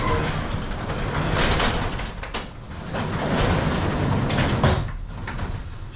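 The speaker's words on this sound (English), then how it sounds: "next you're gonna just try opening the door by hand" A broken-spring garage door lifted open by hand, giving a steady rolling rumble with rattling panels for about six seconds, close and fairly loud, with no talking.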